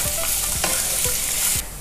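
Two chopped medium onions with chopped green chilli and cumin frying in hot oil in a pan, a steady close sizzle with stirring scrapes, no voices.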